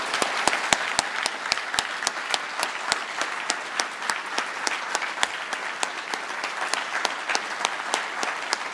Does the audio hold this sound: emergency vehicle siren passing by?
no